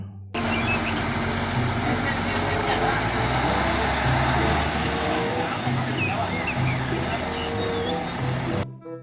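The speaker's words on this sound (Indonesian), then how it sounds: "kalau yang ini adalah mobil derek warna putih" The engine of a white tow truck runs steadily at close range, a continuous low rumble with faint beeping and roadway noise mixed in.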